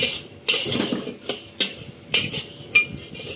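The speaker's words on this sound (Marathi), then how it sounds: "आता हे नीट मिक्स करून घेत आहे।" Roasted cumin and coriander are stirred in a pan, sharp metallic scrapes and clinks of a spoon against the pan in an uneven rhythm, close and clear with no voices.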